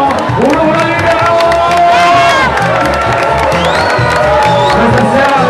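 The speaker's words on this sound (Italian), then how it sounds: "Signori, facciamo un applauso. Un applauso libero!" A nightclub crowd at the Orsa Maggiore in Lecco, Italy, cheers, whoops and whistles loudly and continuously during a live DJ night, with scattered shouts rising over a dense wall of voices.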